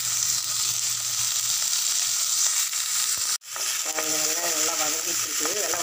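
Onion, curry leaves and garlic frying in oil for radish chutney, a loud constant sizzle filling the whole stretch, with a brief break and some tonal clatter near the end.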